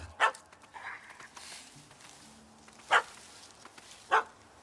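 A puppy barks in the video game The Witcher 3: Hearts of Stone, giving three sharp, separate yaps spread over a few seconds against a quiet background.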